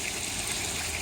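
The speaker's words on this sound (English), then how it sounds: "topping up, adding fresh water there to the pond" Fresh water gushing steadily into a koi pond as it is topped up, a continuous hissing, splashing wash of sound heard close with no voices.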